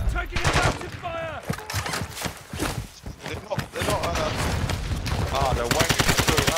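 Call of Duty DMZ gunfight, rapid automatic fire rattling in dense bursts close by, mixed with players talking over the shots throughout.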